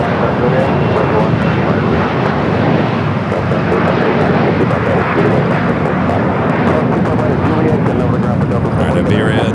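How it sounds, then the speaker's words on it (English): A corporate jet takes off from runway 25 Right at Los Angeles International Airport, a steady, loud, broadband engine roar that holds through the whole stretch while a person talks over it. "Hear that corporate jet taking off now"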